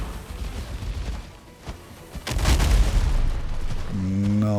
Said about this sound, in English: Bombs again.